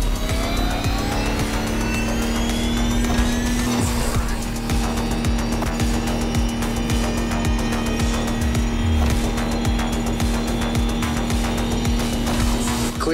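An electric Lamborghini hypercar concept drives flat out in The Crew Motorfest, its steady high electric whine running loud and continuous, with tire noise and clattering road texture throughout.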